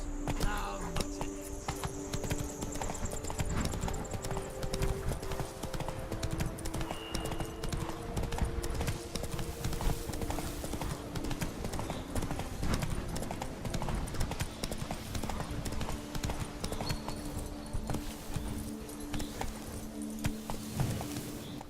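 Roach, Geralt's horse in The Witcher 3 video game, clip-clops steadily in a continuous trot, hoofbeats clear and close over game music and ambient background, with occasional voices in the mix.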